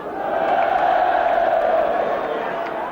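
A large crowd at a 1974 Texaco Cup local derby football match creates a steady, loud roar of massed voices, sustained throughout without a break.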